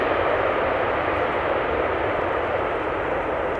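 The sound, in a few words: airliner landing at Schiphol with idle reversers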